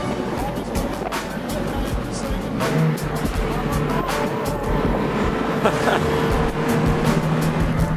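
A Mazda Miata's engine revs hard while driving, heard loud and close from inside the cabin as a rough, continuous drone with road and tire noise.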